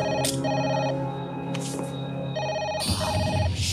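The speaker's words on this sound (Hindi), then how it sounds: "क्या कोई फोन नहीं उठा रहा?" A telephone rings unanswered indoors, repeating bursts of bright electronic trilling separated by short gaps, loud and close with no one picking up.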